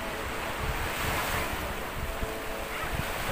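Strong wind at a beach buffets the microphone in continuous gusty roars, with a surf-like rushing texture filling the whole stretch.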